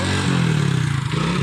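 A motorcycle engine runs loud and close with a throbbing mid-pitched pulse that rises slightly, brief and without talking.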